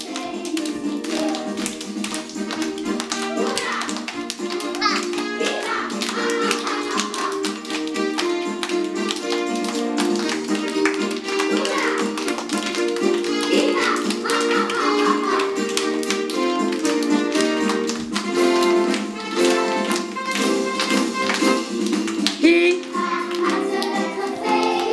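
Children clap their hands in steady, rhythmic bursts through a lively sing-along song with music playing throughout, the claps sounding fairly close and sharp against the melody.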